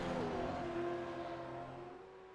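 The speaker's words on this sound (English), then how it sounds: "if you can hear the cars are loud enough or not, but that sounds spectacular" Engine roar of V8 Supercars race cars in the iRacing simulator on the Nürburgring combined layout, a loud continuous engine note with shifting pitch, steady through the clip and easing slightly toward the end.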